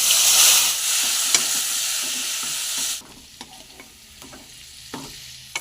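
Turmeric and chili powder frying in hot oil for a vegetable and root pickle, a loud hiss and stirring that abruptly drops away, leaving quieter scraping clicks and taps of a spoon in the pan.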